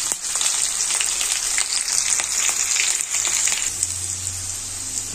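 Cumin seeds and chopped green chillies fry in a pan for an aloo methi dish, giving a continuous soft hiss with fine crackle throughout, moderately quiet and with no voices.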